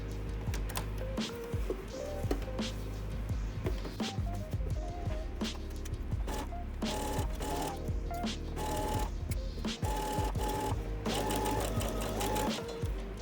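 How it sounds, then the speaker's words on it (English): A sewing machine stitches a front slit in a skirt down to the hem, its steady mechanical run continuing loud and close through most of the stretch with short pauses and mixed with other busy background sounds. "lift your presser foot again and sew the slit all the way down to the bottom of the hem"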